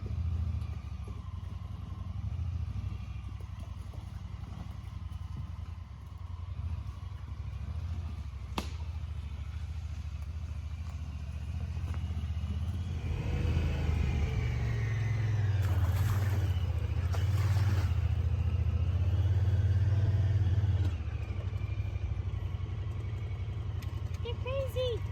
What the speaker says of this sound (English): So I turn the side-by-side around in a different spot every single day.